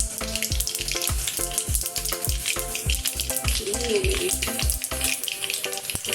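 Cumin seeds crackle and sizzle in hot oil in a pan while making Gujarati batata poha, a steady loud frying hiss with a regular pattern of pops and taps running throughout.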